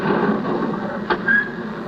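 Original studio recording of a door scraping for the Doctor Who set, a short rough broadband scrape with a brief thump near the middle and a thin squeal toward the end, close and moderately loud.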